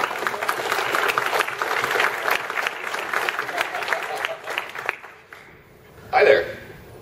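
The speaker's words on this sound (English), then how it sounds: "Round of applause for that." Fans at a convention panel give a round of applause that runs for about five seconds and then tapers off. A voice briefly speaks as the room quiets.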